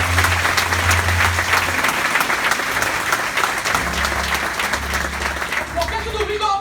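A church congregation claps continuously and loudly for several seconds, a dense even applause with a low hum and some voices mixed in.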